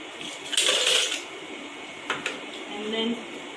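Ice cubes drop into a jug of lemon pieces and mint leaves, giving a short cluster of hard clinking knocks followed by a few lighter clinks, with a quiet room behind.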